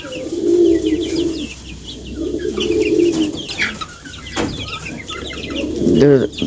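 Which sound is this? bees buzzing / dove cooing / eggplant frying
dove cooing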